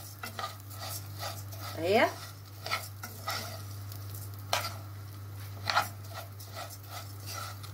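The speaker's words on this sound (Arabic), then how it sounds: "خلطت انا السمنة اهي الشعرية كلها هي، وافضل اقلب فيها لغاية ما احمرها." Vermicelli being stirred while it fries in ghee, giving a soft continuous sizzle with scraping spoon strokes and occasional clinks against the pan, heard close over a steady low hum, with a brief word spoken.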